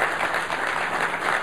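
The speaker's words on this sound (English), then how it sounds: "We should give them a round of applause and thank them" An audience at a tech user-group keynote event claps in a brief, even round of applause, continuous and fairly close, with no talking over it.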